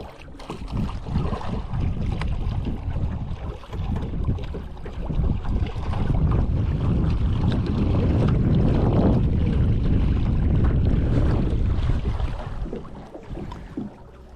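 A Gheenoe boat on its maiden voyage out of Wakulla Beach heads west. A motor drones and water rushes under strong wind buffeting the microphone, growing louder and steadier midway before easing off near the end.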